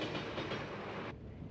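A cartoon train runs along the rails with a steady, quiet rumbling clatter; its brighter hiss drops away abruptly near the end, leaving a duller rumble.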